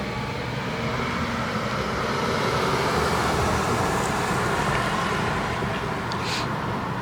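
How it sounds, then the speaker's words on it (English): A security vehicle drives past, a steady broadband rumble of engine and tyre roar that stays loud and continuous throughout, with no talking. "Security just drove past me."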